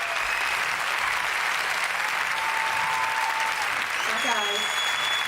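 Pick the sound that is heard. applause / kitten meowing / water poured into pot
applause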